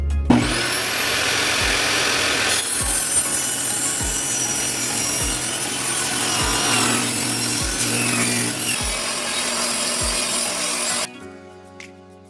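Power saw cutting 1x wood boards for a garden trellis, a loud continuous whining cut with regular thumps as each piece drops, ending abruptly as the saw stops and spins down.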